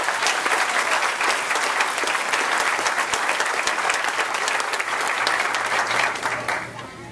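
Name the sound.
applause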